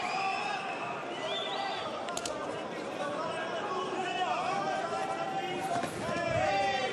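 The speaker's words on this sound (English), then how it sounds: "Hear the crowd getting behind the local man here." Arena crowd at a Bellator MMA prelim event cheering and roaring for the local fighter, a steady loud hubbub with rising swells, heard under a commentator's talk throughout.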